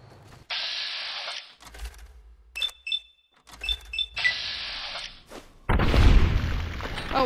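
An explosion in a wasteland survival video game: a deep, heavy boom near the end that follows bursts of harsh hissing noise and metallic clicks and chimes.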